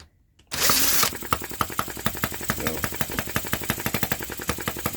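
A vintage Yanmar gasoline model engine catches after a short silence and a burst of starter noise, then settles into a rapid, even chugging run, close and steady.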